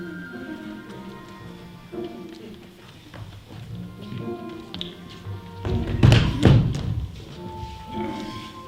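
Knocking at a door during a stage performance of Macbeth, a series of hollow thumps and taps that swell into a louder cluster of blows amid theatre ambience and faint voices.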